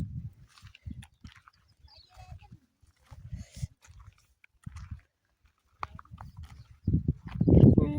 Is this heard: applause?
no